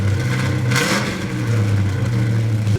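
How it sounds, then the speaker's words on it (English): A Dodge Dart engine with aftermarket mufflers gives a deep, throaty drone close by, with one quick rev blip partway through before it settles back to a steady low hum. "It's got a really throaty tone"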